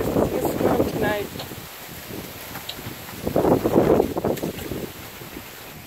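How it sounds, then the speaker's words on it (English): Strong, gusty wind buffets the microphone in loud bursts outdoors before a storm, while a person speaks in between. "Look how windy it is."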